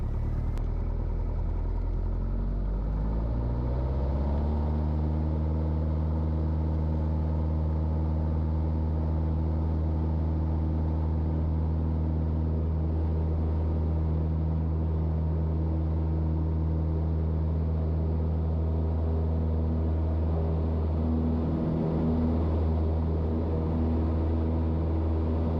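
Piper Tri-Pacer light airplane engine at departure from runway 29 at St. Mary's County, a steady, loud droning hum that rises in pitch over the first few seconds as power comes up, then holds a constant roar.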